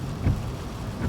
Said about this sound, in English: This rain isn't going to let up, so be careful